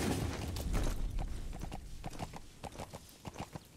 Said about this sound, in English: Love the horse riding in this.